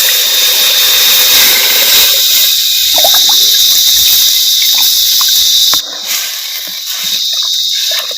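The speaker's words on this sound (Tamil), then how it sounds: "மசாலாவில் சேர்த்த புளி தண்ணி வந்து நல்லா கொதிக்கட்டும்." Tamarind water poured into frying masala for Chettinad vatha kuzhambu hisses and sizzles loudly and steadily, settling into a quieter bubbling simmer near the end.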